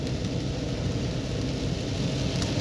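Rain falls steadily on the Bolu road near Mudurnu, Turkey, a dense, even hiss that holds at constant loudness throughout with no voices.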